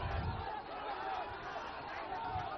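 Crowd clashing with police at a protest at India Gate, a distant, steady wash of many shouting voices with muffled thuds underneath, low in level and slightly muffled.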